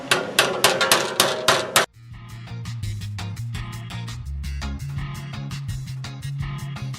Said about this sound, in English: you dress the edge by tapping slightly with your hammer